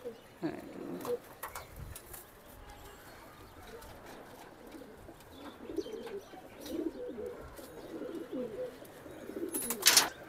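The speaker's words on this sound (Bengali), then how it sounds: "এটা হচ্ছে নর কবুতরটা।" Soft, low cooing of a male Giribaz pigeon comes in quiet intermittent bursts against a faint background, with a brief sharp rattle near the end.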